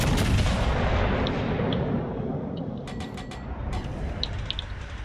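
Warship guns firing in the World of Warships Legends naval game: a heavy, rumbling artillery roar that stays loud throughout, with faint bird-like chirps above it.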